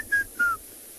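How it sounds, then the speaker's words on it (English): A white-browed scrub robin calls at a waterhole at sunrise, giving two clear, short whistled notes, each gliding slightly downward, fairly close and alone over quiet background. "It's a white-browed scrub robin."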